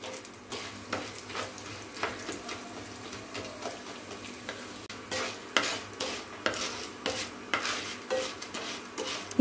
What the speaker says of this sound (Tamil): நல்லா பொன்னிறமாக வறுத்துக்கலாம்.